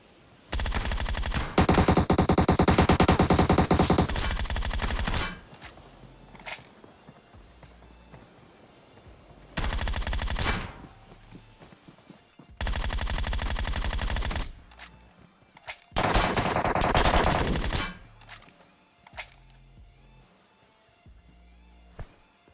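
Long automatic bursts of gunfire from a PUBG Mobile match, loud sustained rattling strings separated by short pauses and scattered single shots, sharp and close.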